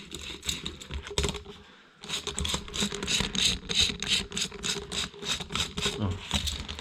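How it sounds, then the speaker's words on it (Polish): A hand ratchet wrench is turned during work on a 2.0 TFSI engine's water pump module. It gives a close, steady run of rapid mechanical clicks in quick bursts, with one brief pause near the two-second mark. "I zobaczcie, kręcimy sobie tu grzechotką."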